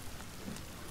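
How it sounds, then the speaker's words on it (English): Rain falls steadily in The Forest survival game, a soft, even broadband hiss of drops filling the whole second at a constant level, with no voices over it. "It's probably the rain that's destroying this stupid campfire."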